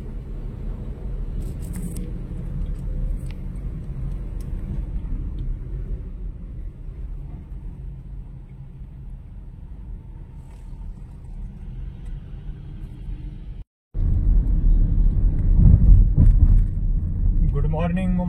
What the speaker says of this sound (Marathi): इसको बोलते हैं ट्रैफिक.